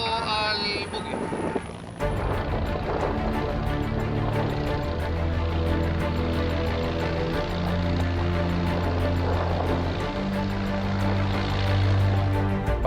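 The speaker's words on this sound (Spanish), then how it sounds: "Ahí podemos apreciar el helicóptero que viene ya aproximando al buque" Helicopter approaching a navy ship in Antarctic waters, a steady loud rotor and engine drone with low throbbing hum persisting throughout, joined by wind and ship noise, with talk heard near the start.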